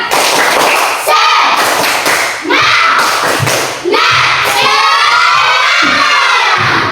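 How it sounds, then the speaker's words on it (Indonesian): Primary school children in an Indonesian Islamic studies class shout a rhythmic 'tepuk semangat' clapping chant together, loud and close, with bursts of claps and thumps under their raised voices. "Tepuk semangat"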